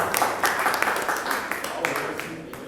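Audience clapping at a Hindi poetry gathering, a dense ongoing round of applause with individual claps audible up close, steady throughout the whole stretch.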